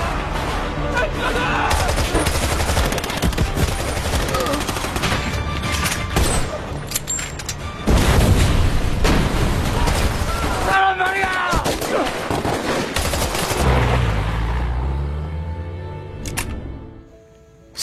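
Gunfire fills a Korean War battle scene at Incheon: dense, loud volleys and rapid bursts of shots with booms, overlapping film dialogue and shouting, continuing for most of the stretch before fading near the end.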